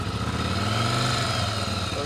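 A stock 1997 Yamaha Virago 750cc motorcycle running just after starting on choke, a steady close-up idle rumble throughout, with a voice faintly present.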